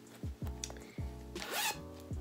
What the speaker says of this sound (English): But it has a zipper